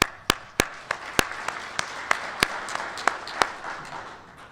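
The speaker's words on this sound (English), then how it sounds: "if you join me in giving a quick round of applause so far" Conference audience applause, a sparse, moderately faint patter of clapping with a few sharp, distinct claps standing out at irregular intervals across the whole stretch.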